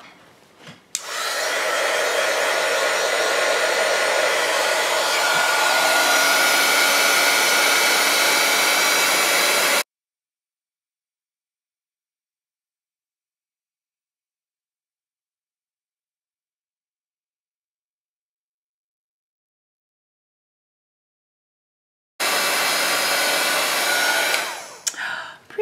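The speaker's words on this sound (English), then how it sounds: "So I'm gonna heat this up." Heat tool melting embossing powder on a holiday card, a steady loud blowing roar for about ten seconds, then silence, then the roar starting again near the end.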